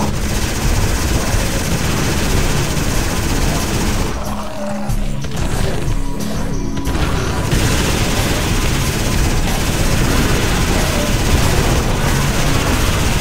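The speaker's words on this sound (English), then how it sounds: "My minigun's almost out." A minigun roars in the zombie shooter Nation Red, a dense, continuous rattle of rapid fire with booming explosions mixed in, loud throughout apart from a brief lull in the middle.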